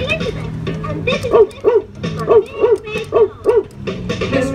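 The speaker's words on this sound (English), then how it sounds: "This red button makes Clifford bark" Clifford the Big Red Dog barking from a button on a Jolly Roger kiddie ride: a string of about eight evenly spaced, mid-pitched recorded woofs, loud and near, with some talk in the background.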